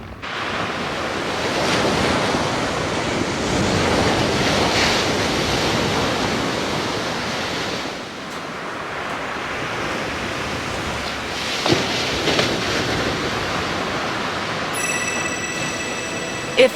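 Ocean waves wash onto a beach in a steady, loud roar of surf, with gusting wind buffeting the microphone throughout.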